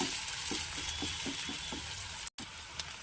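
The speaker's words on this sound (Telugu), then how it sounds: "అల్లం వెల్లుల్లి వేసి వేయించుకోవాలి." Ginger and garlic fry with sweet potato and onion in a pan, giving a soft, steady sizzle with faint rhythmic stirring scrapes. It is quiet and close, and one brief dropout interrupts it.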